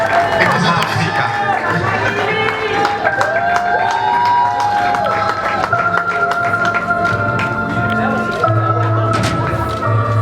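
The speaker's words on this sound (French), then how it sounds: "Madame Liliane Temouni, sous vos applaudissements, mesdames et messieurs" Audience at a charity gala applauding and cheering, with steady clapping and crowd noise beneath music and voices throughout, loud and continuous for around ten seconds.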